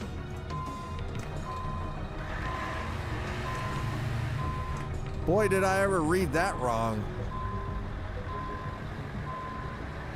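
A truck in Euro Truck Simulator 2 sounds steady, evenly spaced reversing beeps over a low engine hum as it backs into traffic, while someone talks over it.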